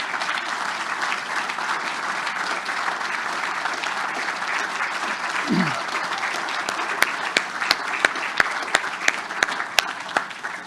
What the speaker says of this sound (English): give them a hearty thank you and give them a round of applause